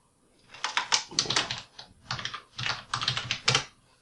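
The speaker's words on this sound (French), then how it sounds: "pour ouvrir votre session, il faut, bien entendu, taper le mot de passe" Bursts of brisk typing on a computer keyboard while a password is entered at a Windows 8 login, crisp close key clicks in several quick runs separated by short pauses.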